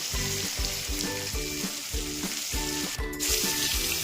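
Pieces of bhetki fish fry in a pan of oil, a steady loud sizzle with rhythmic spattering pops throughout, close up and without voices.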